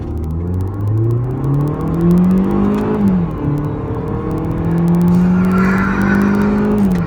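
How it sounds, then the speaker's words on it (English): A 2008 MINI Cooper hatchback accelerating hard through the gears in manual mode, engine note climbing in pitch, dropping briefly at a shift, then rising again, loud and close from inside the car with no talking. "I'm gonna try to go into manual mode from drive sport."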